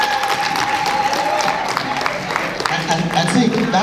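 Audience applause at a promotional workshop in Gombe State, a dense burst of many hands clapping with crowd noise and voices mixed in, loud and close for a few seconds.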